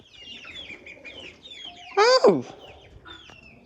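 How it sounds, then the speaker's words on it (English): Chickens cluck softly and steadily on a farm, with one loud, close squawking burst near the middle, and a person gives a short exclamation. "Got some ducks, more chickens."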